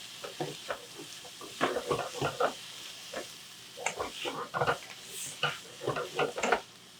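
Cooked meat for shepherd's pie is broken apart and stirred in a sizzling pan, with a steady run of scraping and tapping strokes against the metal close by.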